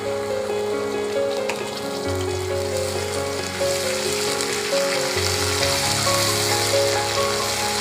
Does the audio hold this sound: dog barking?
no